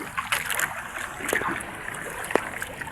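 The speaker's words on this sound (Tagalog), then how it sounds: "alon" Sea waves slosh and splash around a small fishing boat on open water in windy conditions, a continuous wash with scattered sharper splashes, one louder slap near the end.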